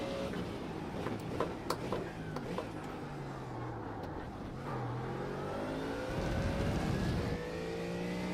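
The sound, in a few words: Mustang GT3 race car accelerating in video game iRacing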